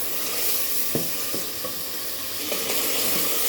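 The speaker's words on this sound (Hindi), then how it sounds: "अब हम लहसुन और जीरा भूनेंगे जब तक इसकी जो स्मेल होती है वो खत्म हो जाए।" Garlic and cumin fry in oil in a pan for mutton and bottle gourd curry, giving a continuous close sizzle broken by several sharp spoon scrapes as they are stirred.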